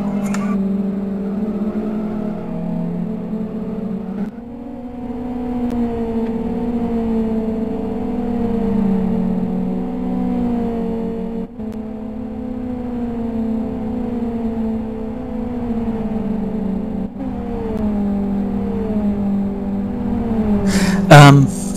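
Steady engine whine from small racing cars in a racing video game, a sustained droning hum with shifting pitch as the cars run down a straight, loud and continuous throughout.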